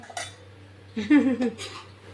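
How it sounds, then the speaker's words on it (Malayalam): A biryani pot is opened and stirred: a light clink of the lid, then a short cluster of metallic scraping and clanking from a spoon in the pot over a low steady hum. "തുറന്നിട്ട് ഞാൻ ഇളക്കി നോക്കട്ടെ"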